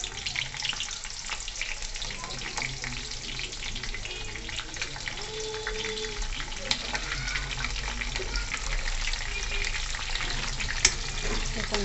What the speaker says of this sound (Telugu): కొంచెం ఫ్రై అవ్వనివ్వాలి.